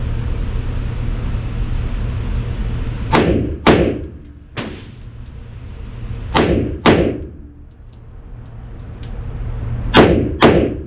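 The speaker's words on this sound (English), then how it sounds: "I'm going to try to do control pairs from compress ready and see how controllable this gun is" A Smith & Wesson M&P Performance Center Compact pistol fires controlled pairs: three quick doubles of loud, sharp, close shots, each pair a split second apart, separated by pauses of a few seconds, with no talk.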